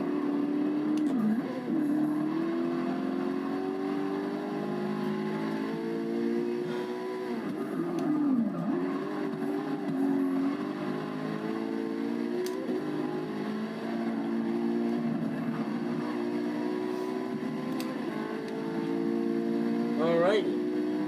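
Race car engines in Forza Motorsport 6 at Spa-Francorchamps, a loud continuous high-revving drone that rises and falls through gear changes, with other cars faintly passing.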